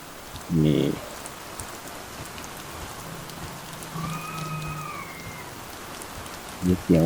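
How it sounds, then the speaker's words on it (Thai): Steady rain patters on a surface at night, a constant hiss throughout, broken by a few brief loud thumps near the start and end and a faint short tone midway. "ฝน"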